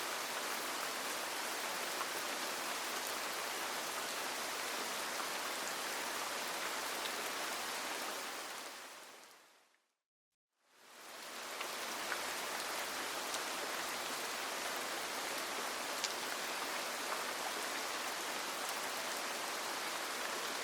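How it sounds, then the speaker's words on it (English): Soft, continuous rain makes a steady, even hiss at low volume. It fades out to brief silence near the middle, then fades back in and goes on evenly, with no voices. "The rain is still falling."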